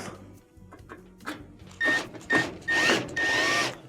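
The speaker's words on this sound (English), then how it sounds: "Reinstall your Phillip head screws." An electric screwdriver drives Phillips head screws back into a Frigidaire gas oven's burner and ignitor assembly in several short whirring bursts, loud and close, after some light clicks and handling.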